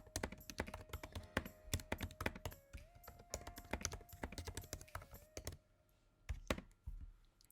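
Assignment instructions typed on a computer keyboard, a steady patter of quick close key clicks with brief pauses and a faint hum underneath, fairly quiet overall.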